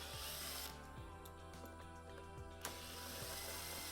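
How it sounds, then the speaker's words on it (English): A magnetized driver bit backing screws out of a jump starter battery box, giving whirring spins and ratcheting clicks with a sharp tick near the end, faint and close. "we're going to go ahead and remove the screws"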